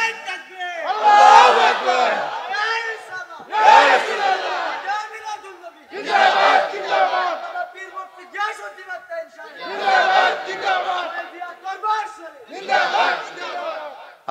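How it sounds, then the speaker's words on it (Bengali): A large crowd at a religious sermon gathering chants slogans in unison with raised hands, five loud rhythmic shouted bursts separated by short pauses. "হাত তুলে স্লোগান তোলেন।"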